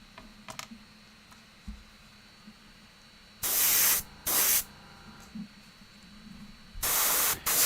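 Patriot 155 Anthem airbrush with a 0.5 mm needle spraying primer at about 35 psi onto a Warhammer 40k Dark Eldar Hellions miniature: three loud, steady bursts of hissing spray, each lasting under a second, separated by quiet room tone.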